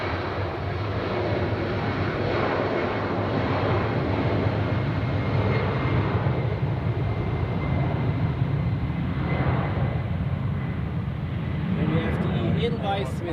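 A Helvetic Embraer 190E2 jet roars steadily on its takeoff run at Zurich airport, loud and continuous throughout with a broad rumbling drone.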